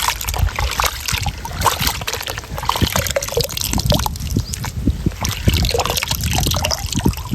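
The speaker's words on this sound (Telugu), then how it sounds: "ఈ రొయ్య పొట్టుని వాటర్లో వేసుకొని నీట్గా వాష్ చేసుకోవాలి" Water sloshes and trickles with irregular splashes as shrimp shells are swished around in a basin of water, close and fairly loud.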